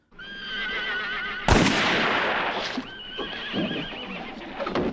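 A horse in the film The Good, the Bad and the Ugly whinnies loudly and close, then a louder burst of neighing follows, trailing into wavering calls with a few hoof-like thumps beneath.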